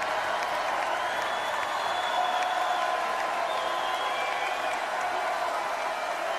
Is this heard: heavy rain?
no